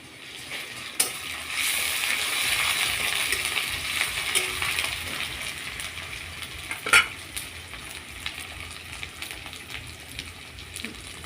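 Onion and garlic paste frying in a pan for a fish and potato curry, a steady close crackling sizzle with occasional stirring scrapes and a sharp clink near the middle, with no talk.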